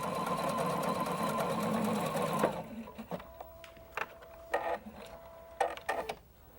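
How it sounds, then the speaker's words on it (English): A sewing machine doing machine smocking on pleated fabric, a fast steady whirring stitch run for a couple of seconds, then it stops and a few short mechanical clicks and bursts follow. "the machine is moving the fabric so that the stitching is taking place over itself"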